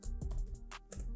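Keys tap on a computer keyboard while a proxy server is set up in Ubuntu Linux, several soft, close keystrokes in an uneven rhythm over a low hum, with no talking.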